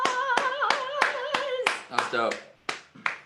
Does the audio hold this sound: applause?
yes